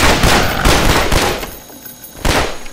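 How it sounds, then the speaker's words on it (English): A sentry gun in the game Garry's Mod opens up in loud rapid bursts of automatic fire, close and harsh, with short pauses between volleys and no speech. "What the hell, sentry gun?"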